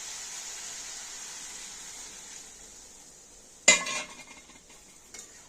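Cauliflower curry cooking in a hot pan, a steady soft sizzle that suddenly bursts into a loud, sharp hiss as water is poured in, then fades back to a lower simmering sizzle.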